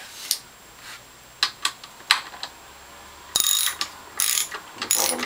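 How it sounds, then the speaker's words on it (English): Ratchet clicks sound while bolts are tightened on a Norwalk juicer's reservoir and pump, starting as scattered single clicks and building into denser bursts of ratcheting near the end, close and clear. "tighten the bolt in the bottom of the reservoir and tighten the two bolts on the bottom of the"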